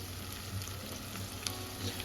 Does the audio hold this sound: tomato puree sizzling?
yes